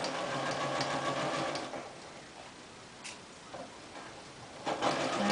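A sewing machine stitching down the side seam of a straight waistband garment, a steady close motor whir with rapid needle ticking that runs continuously, then eases and slows before picking up again near the end.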